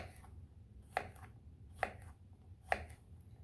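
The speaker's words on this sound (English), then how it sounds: "take a small zucchini, cut it in quarters, and then slice it" A small quartered zucchini sliced with a knife, heard as three crisp, evenly spaced chops against a cutting board, close and fairly quiet, with no talking.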